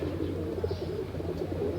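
Pigeons or doves cooing in an aviary, low soft coos repeating over a murmuring background of other birds, moderately quiet and close.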